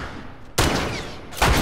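Gunfire from the player's gun in The Last of Us, two sharp, loud shots spaced under a second apart, each ringing with a short echoing tail, no talk.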